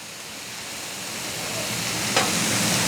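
Mushrooms frying on a Blackstone flat-top griddle, a soft steady sizzle and hiss that swells gradually, with a brief sharp scrape or clatter near the end.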